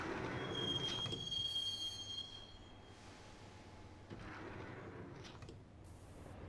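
A train riding through the Max Payne video game, with a steady rumbling roll, a high metallic wheel squeal early on, and faint clatter as it travels.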